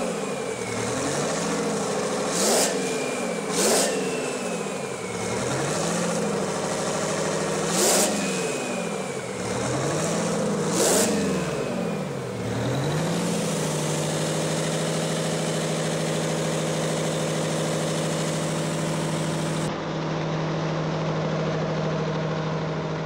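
Vintage 16V-92TA diesel engine running, revving up and down in several heavy surging pulls before settling into a steady, loud, close idle drone.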